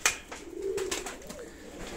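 Armenian pigeons of the cobra-headed kind coo close by, with a single low, drawn-out call that wavers in pitch over faint background noise.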